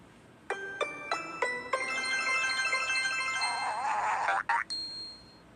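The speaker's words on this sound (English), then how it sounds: "14th logo sound, Namco." Namco logo sound, a few bright plucked chime notes followed by a shimmering sustained synth swell that ends in abrupt clicks, loud and alone.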